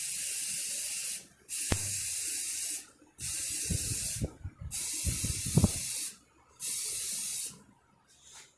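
Four long, steady hissing bursts of spray paint applying a black base coat to a model gun, each lasting over a second with quiet gaps and faint handling clicks between, close and loud; no talk.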